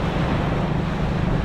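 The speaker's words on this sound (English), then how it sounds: "we're on Llandudno Beach" Surf and wind on Llandudno Beach in Wales, heard as a steady, loud broadband wash with heavy low rumble and wind buffeting the microphone, with no voices throughout.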